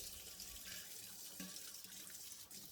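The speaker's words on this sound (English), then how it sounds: "Drain the water in the basin." Water drains from a large basin used for washing stingray pieces, a faint, steady trickling and gurgling wash with no talk.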